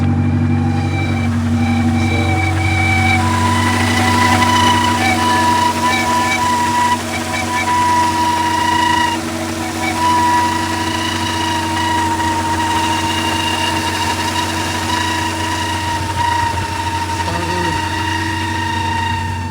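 An Acura Integra GS-R engine, whose starter is struggling, runs at a steady idle close up with a constant droning hum and a slight wobble partway through.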